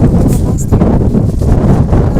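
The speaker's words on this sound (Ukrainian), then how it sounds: "А вітрюга ще вітер хороший." Strong wind buffeting the microphone outdoors in snowy weather, loud continuous low roar with gusty swells and no speech over it.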